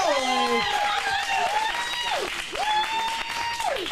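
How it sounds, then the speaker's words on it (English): Clapping fills an acting studio showcase as a performer is welcomed, the steady applause carrying underneath overlapping voices and whoops from the crowd. "Let's get a big round of applause for Skylar"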